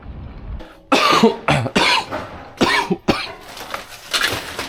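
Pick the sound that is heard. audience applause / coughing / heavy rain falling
coughing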